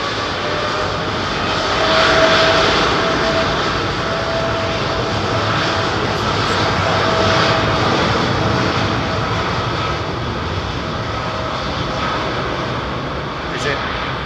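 An Air Canada airliner at London Heathrow rumbles with a broad, steady engine roar that swells gently and fades, heard from a distance as a sustained wash of noise.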